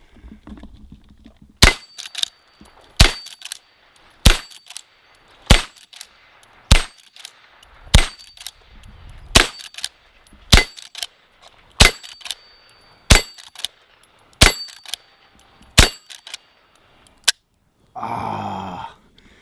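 A .22 Magnum rifle fires about a dozen sharp, evenly spaced shots, each followed by a metallic ring as the round hits a steel target outdoors. A brief rustle comes at the end.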